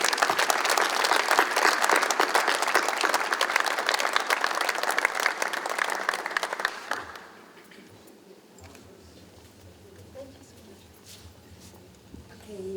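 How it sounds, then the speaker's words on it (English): An audience at an international book summit claps loudly and steadily for several seconds, then the applause stops abruptly, leaving a quieter room with low murmuring and some talk. "let us all join in a round of applause for our friends from Singapore who achieved so much in so little."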